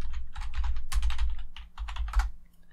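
Fingers type a short entry on a computer keyboard while naming a component in Fusion 360 CAD software, producing several quick bursts of close, crisp key clicks with brief pauses between.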